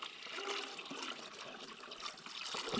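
A bucket of water poured into a container as a lubricating mixture is prepared, a steady close splashing rush of liquid lasting a few seconds with no talk.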